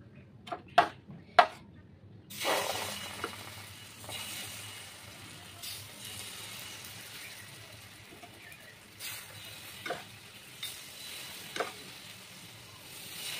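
Oil sizzles softly on a hot tawa as a roti cooks, a low steady frying hiss broken by a few sharp clinks and taps near the start, with faint intermittent voice.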